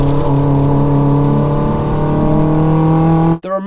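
Race car at Castle Combe circuit under hard braking, its loud engine droning with steady harmonic tones for over three seconds before cutting off abruptly near the end, with a brief clattering burst after.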